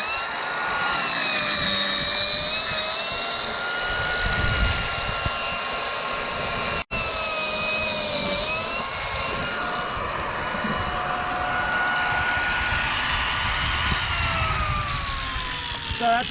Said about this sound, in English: So that's a quick sample. I'm obviously not going to sit here and grind all the joints in front of you